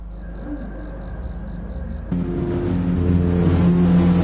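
Race cars drive on the Spa track in a PS4 racing game; a low engine drone with a faint repeating beep gives way abruptly to louder, rising engine roar as cars pull away, with no talk.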